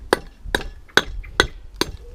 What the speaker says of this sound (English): I actually use it like that and knock onto the bricks. Knock the material off.